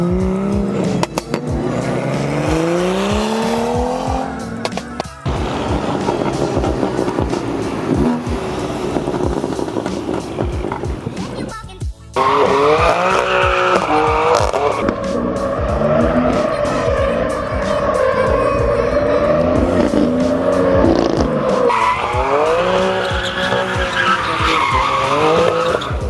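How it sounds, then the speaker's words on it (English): Loud cars, including Mercedes C63 and CLS 63 and BMW M cars, roar with squealing tires on a street run, with a steady rush of wind noise throughout and a brief dip partway through. "It is pretty windy and the cars are loud."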